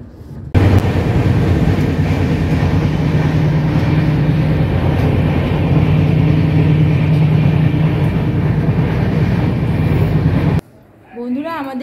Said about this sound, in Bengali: আমাদের ট্রেন কিন্তু এখন ভুবনেশ্বর স্টেশন ছেড়ে বেরিয়ে যাচ্ছে